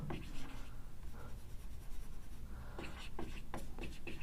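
Chalk or marker scratches across a board during a physics lecture on elementary particles. Quick, close strokes come in bursts with short pauses, with almost no talking.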